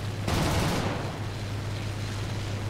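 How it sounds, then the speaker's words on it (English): A Bf 109 F-4 fighter's machine guns fire a short rapid burst in the War Thunder video game, loud and dense, then cut off leaving a steady engine drone. "Now I see his trace and I take some blind shots there"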